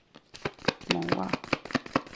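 Oracle cards being shuffled and drawn for a tarot-style reading, giving a series of crisp papery flicks and slaps in an uneven rhythm, close and fairly quiet, with a voice speaking briefly in French over it.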